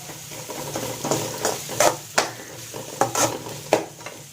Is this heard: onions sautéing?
yes